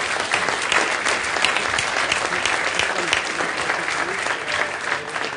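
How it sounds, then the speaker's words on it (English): Dense, sustained applause from a conference audience after a keynote by the European Commissioner at a security forum, a loud steady wash of many hands clapping throughout with no pauses. "Ladies and gentlemen, a round of applause for Commissioner FÜLE."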